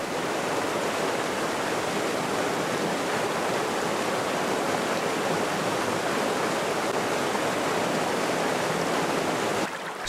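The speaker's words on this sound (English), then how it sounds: "the water begins to run along the surface" Rain runoff streams down saturated forest slopes in a steady, loud, broadband rushing wash that holds constant throughout, like a nearby torrent, cutting off abruptly at the very end.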